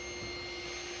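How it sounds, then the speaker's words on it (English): A household vacuum cleaner runs steadily indoors with a constant whine and broad hum, level and unbroken throughout, with no talking over it. "Is it because the vacuum cleaner's on?"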